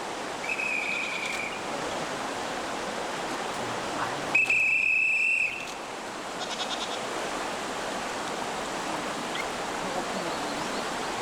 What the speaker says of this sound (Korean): 강을 건넌 할아버지가 호루라기를 꺼내 불자 어디선가 염소의 울음소리가 들려옵니다.